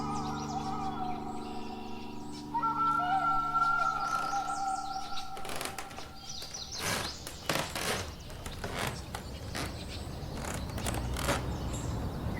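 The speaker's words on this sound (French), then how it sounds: "Depuis des mois, j'écoute les oiseaux." Birds chirp and call outdoors in a city, thin tweets over steady low drones that give way to a stretch of broadband noise.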